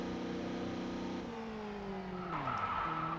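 A race car in the touring-car video game ToCA World Touring Cars skids under braking, its engine note dropping as tires scrub and squeal, with a sustained loud screech entering toward the end.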